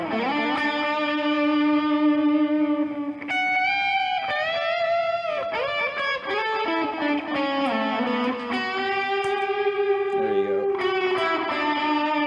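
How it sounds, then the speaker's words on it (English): Electric guitar played through T-Rex distortion and delay pedals, sustained overdriven chords and bending notes ringing out with echoing repeats, loud and close, alone without talking. "I'm always happy with a nice distortion and a delay"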